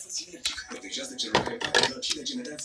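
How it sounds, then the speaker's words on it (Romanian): A frying pan is picked up from the floor in a home, with a few faint metallic clanks and light knocks of cookware under a woman's nearby speech. "Ia să iau tigaia de pe jos."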